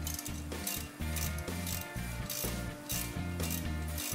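A ratchet clicks rapidly and steadily as it turns while removing a rusted, stuck brake rotor, the rhythmic mechanical ratcheting repeating in short bursts close up.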